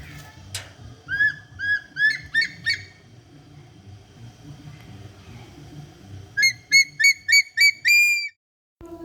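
Black eagle calling in an urban forest park, a series of sharp, repeated whistled squeals in two bursts, first a rapid run of short notes, then after a pause a louder, closer string of ringing calls, over a low background rumble.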